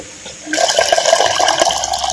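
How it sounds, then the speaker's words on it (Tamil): Raw white rice being swished and rinsed in water for a palm-sugar appam batter, a steady close splashing and sloshing that begins abruptly and continues without talk. "பச்சரிசியை மூணு முறை நல்லா தண்ணி ஊற்றி நல்லா அலசி இப்போ எடுத்துக்கிட்டுருவோம்"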